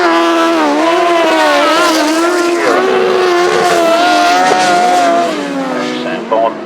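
Several grasstrack motorcycles race down the straight at the 2016 Frittenden Flyer meeting, their engines roaring together in a loud, continuous, overlapping drone that rises and falls in pitch as the riders power past.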